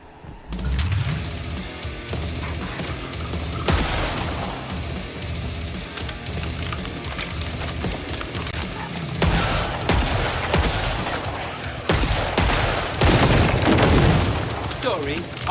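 Rapid hip-fire gunshots in Killing Floor 3 crack in repeated bursts across the stretch, loud and dense, with game music and a voice talking over the shooting.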